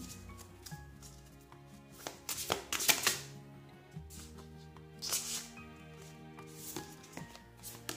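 Tarot cards are shuffled and riffled in quiet bursts, papery flicks and soft slaps rising and falling under faint background music.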